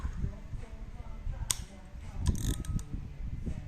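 A vintage Daiwa EX-1000 spinning fishing reel is cranked by hand, giving a soft mechanical whir with a few sharp clicks from its ratchet, close and fairly quiet against low room noise.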